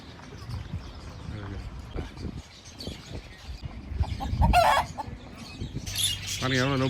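Chickens and a rooster kept at a farmhouse in Ras Al Khaimah cluck and crow nearby, with a loud crow near the end, under faint background talk.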